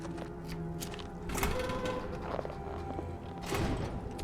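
In a video game, a locked door is unlocked with the lion key: mechanical clicks, ratcheting and creaking thumps of the lock and door over a steady game background hum.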